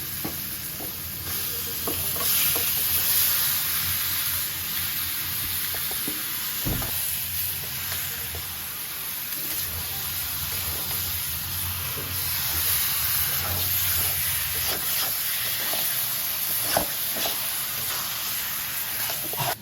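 Spice paste for a native chicken curry fries and is stirred in a pan, giving a steady sizzling hiss broken by repeated scraping stirs, close and moderately loud, with no talking.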